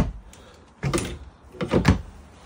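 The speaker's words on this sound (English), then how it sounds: "Dresser drawers." Dresser drawers in a 2023 Heartland Bighorn 37TB RV are pulled open, giving two distinct wooden sliding thuds and rattles close to the listener, with no talking.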